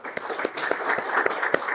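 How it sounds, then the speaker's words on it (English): Applause at a virtual university graduation ceremony, a continuous wash of clapping with a few sharper individual claps standing out at regular intervals, moderately loud. "big round of applause"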